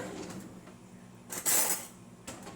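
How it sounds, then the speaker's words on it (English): A spoon is pulled from a cutlery collection with a brief metallic clink and rattle, near and fairly quiet, amid a low background hum. "I'm going to grab a spoon."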